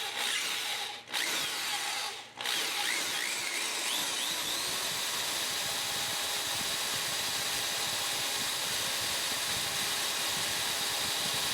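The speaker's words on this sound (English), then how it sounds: "I pulse the drill on and off when starting the hole to achieve the same result." A power drill whines loudly and steadily, briefly pulsing on and off twice at the start before running continuously as it bores into a broken metal bolt.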